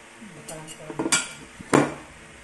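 A utensil stirs macaroni salad ingredients together in a mixing bowl, giving a few scattered clinks and scrapes against the bowl, with two sharper knocks near the end.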